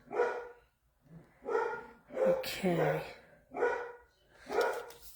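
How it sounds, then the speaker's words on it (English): A pet dog barks in a steady series of five or six sharp barks about a second apart, close and loud indoors, with a person briefly speaking between them. "Uh-oh, my pooch is barking."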